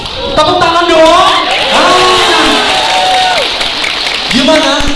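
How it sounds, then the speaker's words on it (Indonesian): Audience at a Mandiri Sahabatku closing event in Hong Kong claps and cheers loudly as a crowd, with whoops and voices rising over the clapping and talk running through it. "Tepuk tangan dong."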